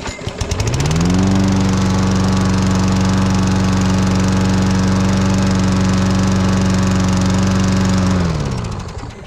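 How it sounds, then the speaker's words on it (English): Lawn mower engine running on isopropyl alcohol, starting up and holding a loud, steady drone with strong low harmonics for several seconds before winding down and cutting off near the end. "I'm gonna mow with it for a little bit, see if it continues to run"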